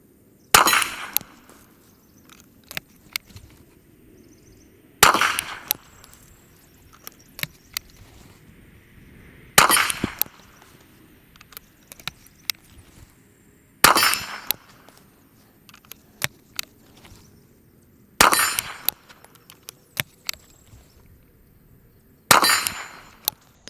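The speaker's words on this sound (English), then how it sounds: "I'm gonna fire 5 shots at the steel" Five sharp gunshots from a Rossi Poly Tuffy .410 bore, spaced roughly every four to five seconds, each followed by a ringing metallic clang from a steel target at 50 yards, with quiet outdoor pauses between.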